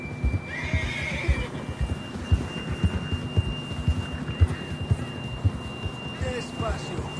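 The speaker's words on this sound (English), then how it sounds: "John was riding that horse when we left Blackwater." A horse in Red Dead Redemption 2 gives a high whinny early on while hooves clop steadily throughout, with a low rumbling game soundscape underneath.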